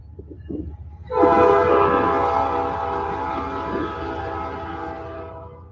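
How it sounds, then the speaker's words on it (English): A freight train horn sounds one long, loud, sustained blast that fades slowly, over the low rumble of the passing train by a lake. "Here comes the train."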